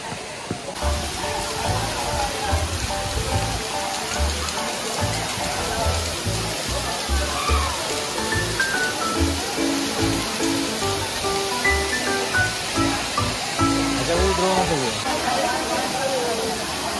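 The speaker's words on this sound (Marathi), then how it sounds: "तो बघा इकडे धबधबा." A waterfall roars in a continuous, loud hiss of rushing, splashing water, with someone talking over it and a crowd gathered nearby.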